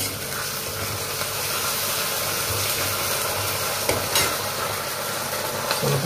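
Ginger garlic paste fries in a pan with a steady, dense sizzle and crackle, a few stirring scrapes and knocks showing over the even hiss.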